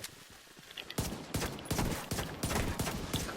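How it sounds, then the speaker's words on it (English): Gunfire in The Division 2, with rapid shots coming in repeated bursts at a steady rhythm. The bursts are loud and close, over quieter game ambience, and no one speaks. "I shot his shield out"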